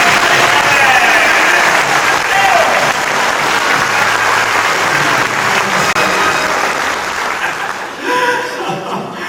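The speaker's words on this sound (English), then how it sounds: "You get all this applause for being wonderful" Loud, dense audience applause at a chamber of commerce annual dinner, sustained throughout with some chuckling in the crowd, easing slightly toward the end.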